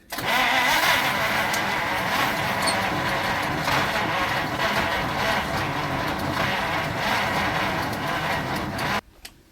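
An old Chieftain car engine, just primed with fuel poured down the carburetor, is cranked over and runs steadily and loudly for about nine seconds before cutting out abruptly near the end.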